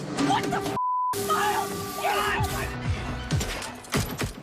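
Gunfire from the action movie Guns Akimbo, in which a girl named Nix shoots at a fleeing man. Bursts of shots and sharp impacts sit under a steady narrating voice and music, ending in a few louder bangs.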